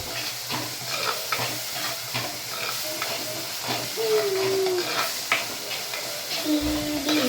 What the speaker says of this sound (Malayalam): ഇഞ്ചി വെളുത്തുള്ളി പേസ്റ്റ് ഇട്ടിട്ടുണ്ട് അതുകൂടി നല്ലോണം ഒന്ന് മിക്സ് ചെയ്യാം